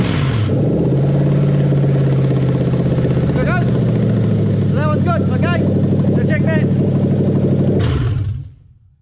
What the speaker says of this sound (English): Probably couldn't hear me over the engine